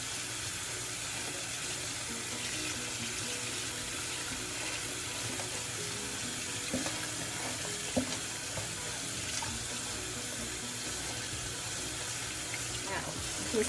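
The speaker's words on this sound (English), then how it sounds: "Now, you see the water down here when I squeeze? It's running fairly clear." Tap water pours steadily over tie-dyed fabric at a sink as it is squeezed and rinsed, a continuous close rushing splash with small squelches and drips breaking through.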